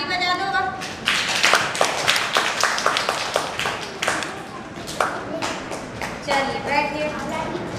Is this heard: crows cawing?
no